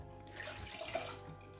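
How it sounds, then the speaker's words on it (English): Spiced rum glugs from a bottle into a saucepan for a spiced pear Christmas trifle, a brief, close liquid pour with a rushing, splashing quality and no talking. "I'm also going to put a good glug of Captain Morgan's spiced rum"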